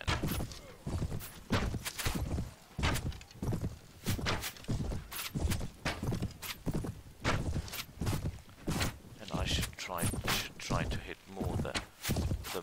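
Horses in a Mount & Blade battle, with rhythmic hoof clip-clops and thuds pounding steadily and loudly for the whole stretch, along with impact knocks.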